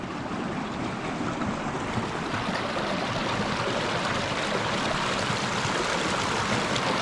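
Steady rushing water fills the clip, a broad continuous roar of flow tumbling over rocks and small cascades into rock pools at Sailors Falls, Trentham, Victoria, close and unbroken throughout.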